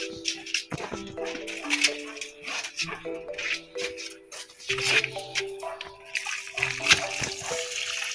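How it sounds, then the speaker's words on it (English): Water poured by hand onto garden soil where beans are planted in the dry season, with splashing and sloshing that comes in several bursts over about eight seconds, close by and moderately loud. "So I'll just pour water."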